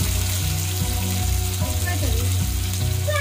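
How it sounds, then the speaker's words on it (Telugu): Onions fry in hot oil for a Telangana-style mutton head curry, giving a loud, close, continuous sizzle with faint stirring and a low hum underneath. "నూనె అయితే గరం అయిపోయింది ఉల్లిగడ్డ వేసుకున్నా"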